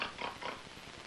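A voice imitates frantic pigs being chased by a dog on a farm, giving a loud, continuous burst of squealing and grunting that lasts about a second.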